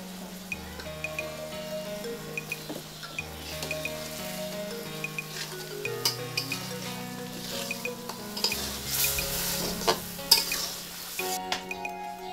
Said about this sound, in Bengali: এটা ভালোভাবে কষায় নিতে হয়।